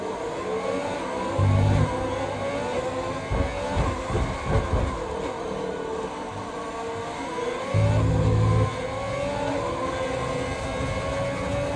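A Formula 1 car in the game F1 2020 at the Dutch Grand Prix, its engine holding a loud, steady high-pitched whine with rising gear sweeps and brief low thumps, close and continuous with no talk.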